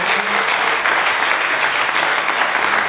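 Members of a church congregation clap for the Lord during a service, a dense, even burst of applause that holds steady and loud throughout.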